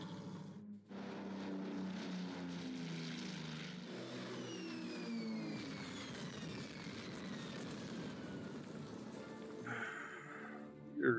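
A bomber aircraft engine in the wartime strategy game Order of Battle, a steady droning propeller hum with pulsing tones, moderately quiet and continuous with no talk.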